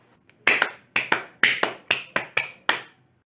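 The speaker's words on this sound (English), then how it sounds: "Let us give ourselves 5 claps." A class claps together in time, eight or so distinct sharp hand claps in a steady rhythm, close and fairly loud, with silence before and after.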